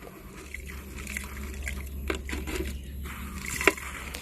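Clean tap water pours and trickles into a watering can with salt added, a steady soft liquid rush with a few small splashes and drips, close and fairly quiet.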